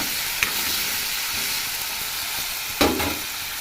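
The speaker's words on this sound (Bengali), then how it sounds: "এখানে যে আমি আলু ভাজা করছি" Potatoes fry in a pan with a steady, close hiss and crackle, broken by a couple of brief stirring scrapes, and no voices.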